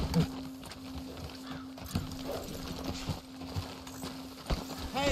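Horse hooves clip-clopping at a steady walking rhythm in Red Dead Redemption 2, fairly quiet and close, with a steady background hum and faint voices.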